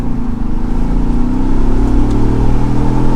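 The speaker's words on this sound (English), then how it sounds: "getting back up to some speed on a straightaway" A 2021 Ford Bronco Wildtrak Sasquatch picks up speed on a straightaway, its engine a loud, steady drone whose pitch climbs gradually throughout, with no talking.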